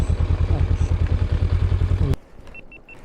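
A 2024 Honda CB50 motorcycle engine throbs with a rapid, steady pulse for about two seconds and then abruptly cuts out, leaving only a few soft electronic beeps.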